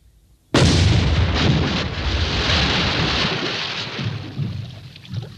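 A heavy AVRE armored engineer vehicle's demolition gun fires in a 1983 battle setting: one sudden, loud, booming blast followed by a long rumbling roll that slowly fades, with no talk.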